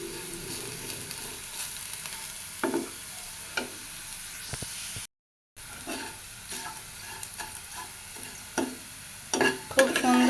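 Potatoes stir-fried in a pan sizzle steadily while a utensil scrapes and taps against the pan at irregular intervals, with no voices.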